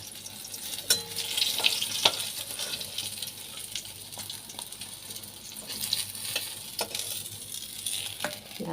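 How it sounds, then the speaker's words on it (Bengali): Bhetki fish frying in hot oil in a pan, a soft steady sizzle with occasional sharp crackles and clinks from the cooking, heard on its own without any talking. "দেখো পুরো মাছটাই ভাজা হয়ে গেছে"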